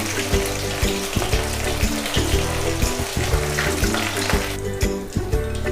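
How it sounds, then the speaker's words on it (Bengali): Chicken pakora pieces frying in oil for a second time until deep brown, with a loud, dense bubbling hiss that runs continuously over a steady low tonal background and no speech. "সেকেন্ড কোটটা এইভাবে আমি ভেজে নিচ্ছি এখন।"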